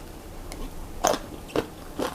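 A few crisp, close crunches from chewing a mouthful of stir-fried shrimp with crunchy beans in red curry paste, three distinct bites spaced about half a second apart over quiet background.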